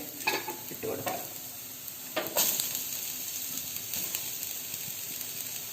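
Sliced carrots tossed into onions sizzling in a hot pan, a loud crackling fry with a few scraping stirs near the start, then a steady hiss.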